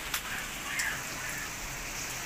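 Steady rain falls over hillside houses in Antalya, seen from a balcony, a dense even hiss of drops on surfaces with a few brief louder patters.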